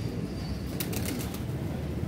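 Pigeons shuffle and flap their wings close by, with a short burst of wingbeats in the middle over low rustling and a soft background murmur.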